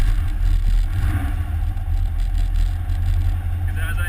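Steady low rumble and clatter from an off-road vehicle with a solid-mounted driveline, loud and continuous road and drivetrain noise with a faint rattle on top, a voice heard briefly under it.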